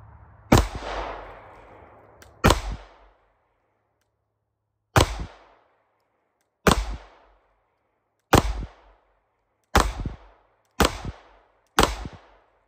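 Gunshots from a pistol fitted with a Radian Ramjet, eight sharp loud reports fired one at a time, first spaced a couple of seconds apart, then quicker toward the end, each with a short ringing decay.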